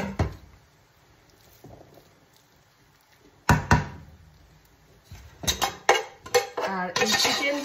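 Leftover pulao is spooned over chicken biryani in a pot: a quiet stretch, then sharp clanks of a metal spoon against the pot, followed by a cluster of scraping knocks and rattles near the end.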